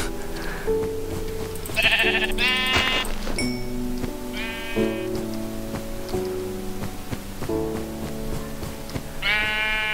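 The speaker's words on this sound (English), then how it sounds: "Die, sheep, die." Repeated sheep bleats from the Minecraft video game, several short wavering calls spread across the stretch over a steady backdrop of game music, with no talking.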